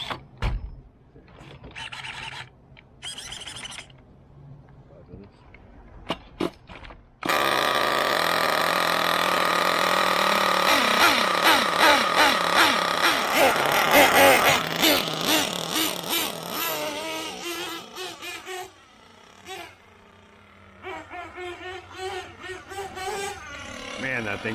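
A Losi 8ight T RC truck with a freshly broken-in engine revs hard and loud for about ten seconds, with rising and falling whines and rattly mechanical buzz. Quieter starts and idling come before it, and the engine bursts on and off again after.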